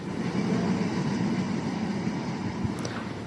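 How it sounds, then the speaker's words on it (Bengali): The Banalata Express passes straight through Tangail railway station without stopping, a faint, steady low rumble that holds evenly for a few seconds. "গ্রিন সিগন্যালে এখন একটি ট্রেন থ্রুপাস করবে। এই ট্রেনটি হচ্ছে আপনাদের সবার পরিচিত এবং ফেভারিট বনলতা এক্সপ্রেস।"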